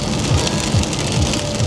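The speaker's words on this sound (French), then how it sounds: "Il pleut toujours à plein temps, franchement." Steady rain falls outdoors in France, a dense, continuous hiss of drops on surfaces, loud and close, with no voices over it.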